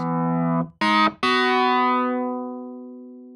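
Bright, buzzy electric piano notes from the AudioThing Wurly plugin, reed knob raised for a gritty, saturated edge: a sustained tone, two short stabs, then a long note slowly fading out.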